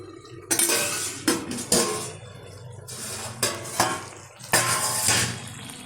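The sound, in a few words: lifting the lid off a cooking pot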